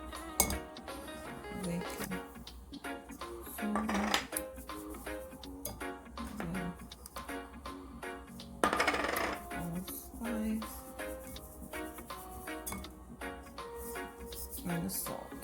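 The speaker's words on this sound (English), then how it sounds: "Now I'm just going to whisk in my baking powder" A whisk clinks and taps against a bowl as baking powder is worked into flour, giving light irregular metallic ticks up close, with someone talking over parts of it.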